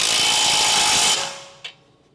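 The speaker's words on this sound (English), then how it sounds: "Use an 18mm socket with a 17mm wrench to tighten the lower strut bolt." Power tool whirring loudly while tightening a Honda Civic 1.8L lower strut bolt with an 18mm socket and 17mm wrench, running steadily then stopping, followed by a brief metallic clink.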